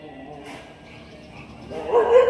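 Dogs yip and whimper as they fight in the distance, growing louder toward the end, over a murky background of voices and ambient noise.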